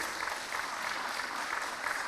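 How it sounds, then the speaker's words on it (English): Steady, dense applause from an audience at an independence lecture, continuous and fairly distant-sounding, with no talk over it. "So give them a round of applause for me, please."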